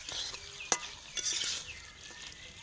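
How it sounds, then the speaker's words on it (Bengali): Pork and local potatoes go into frying spice masala for a village-style pork curry, giving a quiet sizzle broken by a few sharp clinks and scrapes of a utensil against the pot, with no speech. "এবার আমরা মাংসটি দিয়ে দিব। এটা হচ্ছে শুকরের মাংস, দিয়ে দিলাম।"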